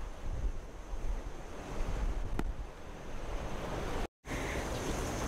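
Sea waves wash against the shore beside seaside houses, a steady roaring surf mixed with gusting wind buffeting the microphone, with no talking.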